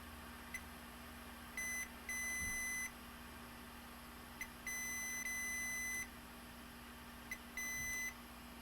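A multimeter in continuity mode beeps while probing a shorted diode on a Galaxy S9 Plus phone board under repair: faint intermittent electronic tones, some short blips and some longer sustained beeps, over a low steady hum.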